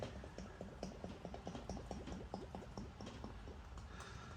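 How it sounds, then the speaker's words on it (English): Beer glugs in a rapid, rhythmic run of gurgles as it pours from a 1-litre bottle of Aldi Rheinbacher Festbier into a large stein glass, close and clear, with no talking. "Listen to the glug."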